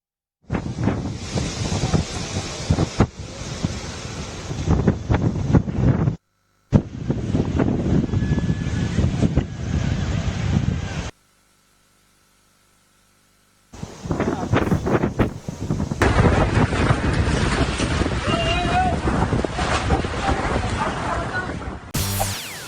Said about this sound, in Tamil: டெல்லியின் முக்கிய பகுதிகளில் இரவு நேரத்தில் பலத்த காற்றும் வீசியது